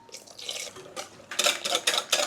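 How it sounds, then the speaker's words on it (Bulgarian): Milk is poured gradually into pancake batter of flour and beaten eggs, giving a series of close, splashy pulses that grow louder and more rhythmic toward the end, with no talking. "И постепенно си добавяме и млякото."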